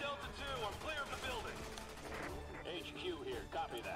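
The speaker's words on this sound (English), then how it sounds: "Some gunfire." Gunfire in the video game Resident Evil 6, faint scattered shots in the background beneath someone talking over the game audio.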